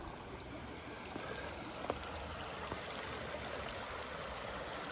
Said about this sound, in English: We got running water though.